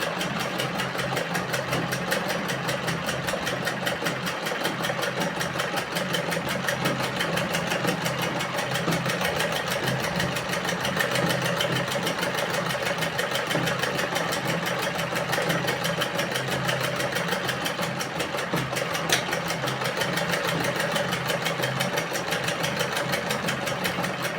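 A sewing machine stitches a round neckline, its needle chattering in a fast, even rhythm with a steady motor hum that runs loud and unbroken throughout.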